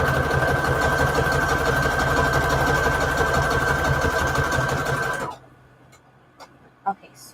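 A sewing machine runs steadily, stitching a strip for a Christmas junk journal at stitch length 3 and width 5, a constant mechanical whir that stops abruptly and leaves a few faint clicks afterward.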